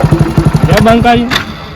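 Motorcycle engine idling nearby with a rapid, regular putter that rises into a brief revving whine before settling, heard briefly and loud, with voices over it.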